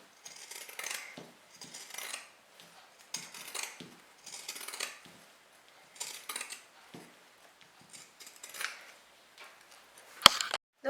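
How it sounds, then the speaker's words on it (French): Pinking shears snip through fabric in repeated short bursts of crisp crunching cuts separated by pauses, quiet and close, with a sharp click near the end and no speech. "je le fais avec les ciseaux cranteurs"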